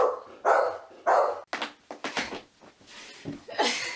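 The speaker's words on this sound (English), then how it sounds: "Guard dog." A dog barks several times in close, loud bursts. Quieter yips and a few small knocks follow in between.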